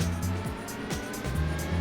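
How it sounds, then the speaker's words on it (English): A race car in the Le Mans 24 Hours racing game revs up and pulls away, its engine note rising and stepping through gears in a steady, loud drone with no talk over it. "So build up the revs, and we're off"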